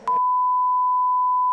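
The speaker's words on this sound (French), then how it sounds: "Voilà, là je vais devoir biper." A loud, steady 1 kHz censor bleep, a pure tone held for over a second, cuts off a brief burst of speech at the start.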